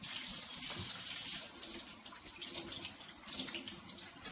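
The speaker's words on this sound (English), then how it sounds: "Now we're going to go ahead and rinse the turkey breast really well." Tap water running over a raw turkey breast in a sink, a continuous splashing flow with slight fluctuations, fairly quiet and close, with no talking.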